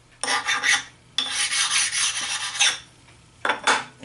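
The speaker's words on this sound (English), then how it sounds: "Just to stone the surface a little bit, make sure there's no burrs." A sharpening stone is rubbed over the metal surface of a shop-built vise to take off burrs, making three rough rasping strokes, close and fairly loud, each lasting a second or more.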